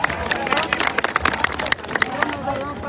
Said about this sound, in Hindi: तो मैं चाहूंगा एक बार जोरदार तालियों से इनका स्वागत किया जाए